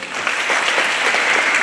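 A roomful of clapping greets students at a Limassol music school presentation for primary pupils, a brief, dense burst of applause that holds steady and fairly loud.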